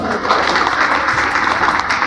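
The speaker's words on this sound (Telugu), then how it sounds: "ఈ సందర్భంగా సార్ని మనం చప్పట్లతోటి అభినందిద్దాం" An audience at a gathering claps steadily to congratulate a man being honoured, a dense, continuous patter of hands that holds at an even, fairly loud level throughout without talk.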